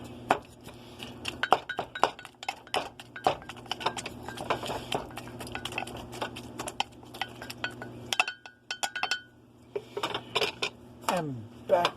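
A bamboo spatula chops and scrapes hamburger meat in a dish, giving repeated close clinks and taps in an irregular rhythm with brief pauses, over a steady background hum.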